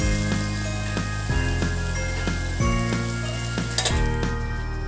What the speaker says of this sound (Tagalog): I-fry natin ito hanggang sa mag golden brown at crispy.